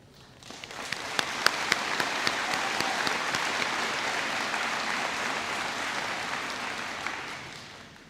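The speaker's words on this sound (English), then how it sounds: "please join me in applauding them for their work ethic and effort" A high school graduation crowd applauds the graduating students, the clapping building quickly from a few sharp claps into a thick, even wash of sound that holds steady before tapering off.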